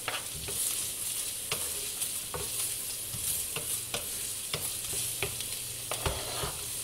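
Carrot, celery and onion frying in a pan over just above medium heat give a steady sizzle, broken by regular scraping stirs of a utensil, with no voices.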